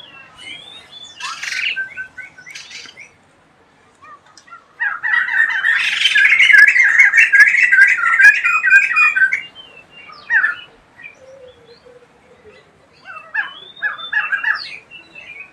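A black-winged myna (jalak putih) in an aviary gives harsh, repeated squawks, with a short call early on, then a long, loud, chattering burst in the middle and scattered sharper cries toward the end.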